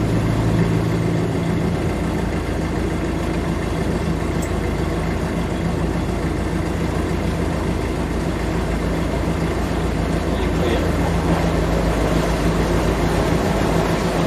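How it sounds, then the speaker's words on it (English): A narrowboat engine drones continuously and close by, its pitch shifting slightly partway through, with no voices. "You can hear the change in engine tone there"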